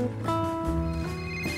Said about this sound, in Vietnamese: Anh có điện thoại kìa.